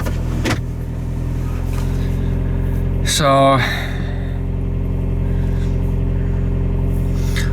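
A 2005 VW Passat TDI diesel engine idles steadily after a cold start, a constant low drone filling the whole stretch, with a brief spoken word and a short tonal whine partway through.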